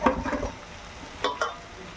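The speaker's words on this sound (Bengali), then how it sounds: "মশলাটা আমার ভাজা হয়ে গেছে, তেল ছাড়তে শুরু করেছে। আমি এবার এর মধ্যে মাছগুলো দিয়ে দেবো।" Fish pieces dropped into a fried spice paste that is already releasing its oil, with a soft sizzle, a brief stirring scrape at the start and two short bursts of crackle near the end.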